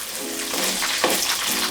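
About a quarter kilo of small shallots sizzle in hot oil for a village-style lung fry: a steady, close frying hiss with faint stirring scrapes and no talk.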